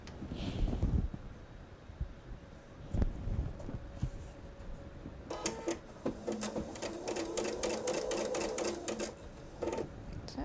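A sewing machine stitches a small log cabin lap quilt, running in a steady close burst of rapid needle strokes for several seconds after a quiet stretch with faint handling noises.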